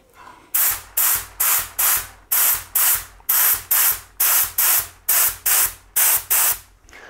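A paint spray gun set to a wide fan fires a series of about a dozen short, even bursts of loud hissing spray, each roughly half a second long and regularly spaced, close up with no voices.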